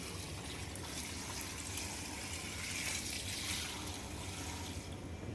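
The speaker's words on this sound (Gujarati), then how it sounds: "અત્યારે પાણી આપણે રેડી દીધું છે વેલની અંદર." A bucket of water is poured onto a vine plant in a home garden, making a quiet, steady splashing pour that runs for several seconds without talk.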